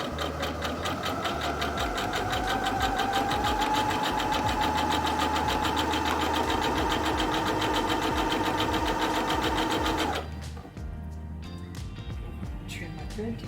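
A Heavy Duty HD6605C sewing machine runs a zigzag stitch at the default 5 mm width, a fast, even whirring clatter held for about ten seconds before stopping abruptly, leaving quieter handling noises.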